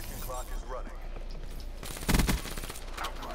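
Machine gun fire in a first-person shooter, a short loud burst of rapid shots close by, rising out of a busy background of game noise.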